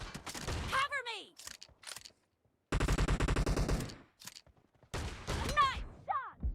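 Rapid bursts of automatic gunfire crackle in a PUBG Mobile match with a new shotgun, two dense volleys separated by short gaps, mixed with shouted callouts and other game voices.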